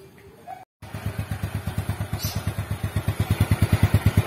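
Yamaha Mio scooter engine idling steadily right after an oil change, close up, with a regular low thumping beat after a brief silent gap at the start.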